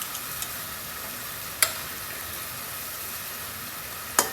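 Onions frying in a pan with chili, coriander and turmeric powder, giving a soft continuous sizzle with two sharp clicks of a utensil against the pan.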